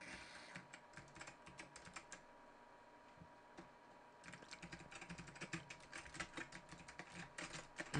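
Computer keyboard keys being pressed, heard as quick irregular clicks close by and fairly quiet, with a short pause in the middle before a denser run of taps.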